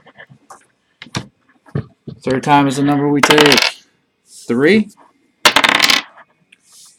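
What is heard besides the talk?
dice being rolled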